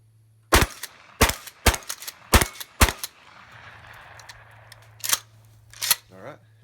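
A pump-action shotgun, a Remington 870 or Mossberg 500 without its recoil pad, fires outdoors: five loud, sharp blasts in quick succession, a pause, then two more, with brief voices near the end.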